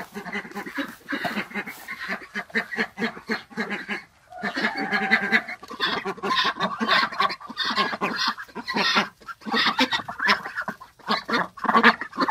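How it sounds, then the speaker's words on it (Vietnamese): A flock of ducks at a farm keeps up a loud, busy chorus of overlapping quacks, with rapid bursts and brief pauses. "Nhìn đàn vịt nó ra ăn đẹp chưa này?"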